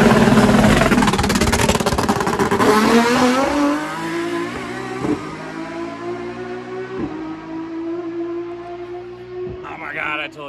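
A Lamborghini race car engine revs loud and close, climbing hard through gears with shifts marked by brief breaks, then settling into a lower, steadier drone as it pulls away.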